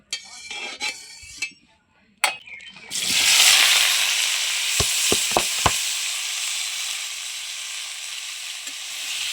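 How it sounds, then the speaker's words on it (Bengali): Pieces of young jackfruit and potato hit hot oil in a wok after a few clatters, then a loud, steady sizzle carries on, broken by several sharp knocks of a spatula against the pan. "এবার কাঁঠাল আর আলুটা ভালো করে ভেজে নেব।"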